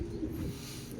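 Racing pigeons coo softly and continuously at a finish-line loft during a 154 km race in Calauag, Quezon, a low, faint murmur against a steady background hum.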